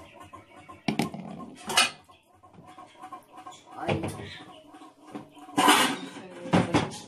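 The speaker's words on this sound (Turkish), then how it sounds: "Çok ses yaptım, tangır tumbur tencere kapak sesi." Pots and lids clatter in a home kitchen while rice is being put on the stove, with several sharp metallic bangs and rattles in bursts alongside a woman's occasional brief speech.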